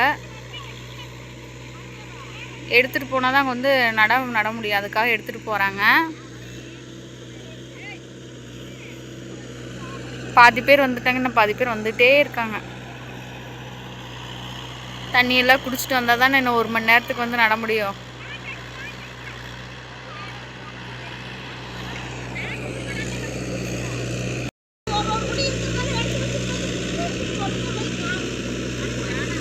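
A tractor runs steadily in a paddy field during rice transplanting, a low continuous engine drone heard throughout beneath a person talking at intervals.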